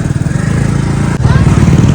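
A motorcycle engine idles loudly and close by, a steady low throbbing putter with a brief dip before it picks up again and keeps running.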